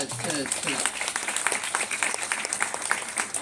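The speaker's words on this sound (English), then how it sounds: "Let's give a round of applause to" A crowd at a prayer vigil applauds first responders, dense and steady clapping from many hands that carries on under a speaker's voice, which lingers early on and then fades into the ovation.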